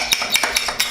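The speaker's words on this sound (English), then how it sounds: "Stir it up." Spoon stirring gelatin in a bowl, four evenly spaced light clinks against the bowl's side within a second, close and clear with no talking.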